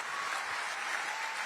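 Steady crowd applause at a political speech, a dense, even wash of clapping that holds at a constant level from start to finish with no voices on top.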